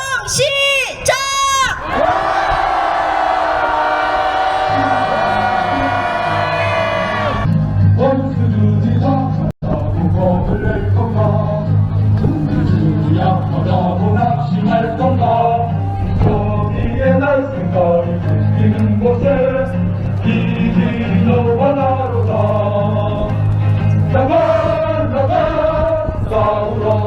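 A crowd raises a sustained roar of angry shouting at an outdoor concert protest rally, then music with a steady beat and singing voices carries on loudly for the rest of the stretch.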